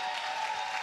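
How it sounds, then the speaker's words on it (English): A short burst of steady audience applause for competitors at a Fortnite event, faint and dense, heard alone without voices. "can we get a round of applause, please"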